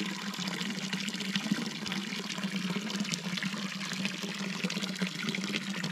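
Water runs steadily from an OKO filter bottle after its pull tab is opened, a continuous close splashing stream that keeps an even level throughout with no pauses.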